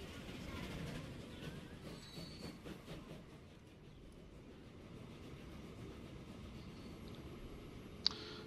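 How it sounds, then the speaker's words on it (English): A faint rolling rumble of a train with soft clickety-clack from the Transport Fever video game runs continuously in the background, low and steady, ending with a small sharp tick. "when this other train gets over here"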